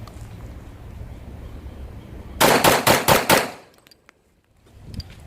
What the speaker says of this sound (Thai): เดี๋ยวลองมันเหลืออีกสี่นัดนะฮะ เดี๋ยวลองยิงให้เร็วดูอีกนิดนึงนะครับ